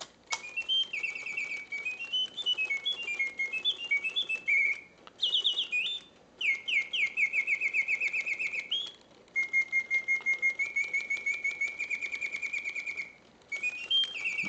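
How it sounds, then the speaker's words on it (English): A 1968 Reuge double singing bird cage automaton chirps and trills in quick, warbling phrases with brief pauses between bursts, its bright mechanical birdsong close and clear with a faint whirring underneath. "let's hear these birds sing."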